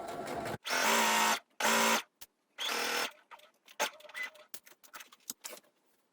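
A sewing machine stitches an angled pocket seam on a jumpsuit in three loud, steady whirring runs, followed by quieter scattered mechanical clicks and taps.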